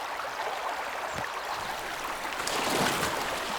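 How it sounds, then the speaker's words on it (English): A fast-flowing meltwater stream runs through the Lake District fells with a steady broadband rush, swelling louder near the end. "In the high country, the rivers and streams crisscrossing the fells are filled with water from the melting snow"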